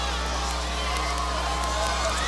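A dense nighttime crowd lines the street at the Endymion Mardi Gras parade as floats pass, a steady wash of murmuring voices and scattered distant whoops with faint cheering, continuous throughout without a single clear voice standing out.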